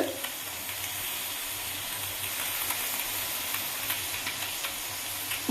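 A pressure cooker cooking rice on a kitchen stove hisses continuously as it releases steam. The broadband rushing sound stays loud and steady throughout, with faint crackles.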